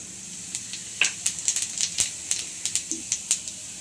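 Cumin seeds hitting hot oil in a kadai for dhaba-style dal fry, a burst of sharp crackling pops and spits over a low sizzle, close and lively.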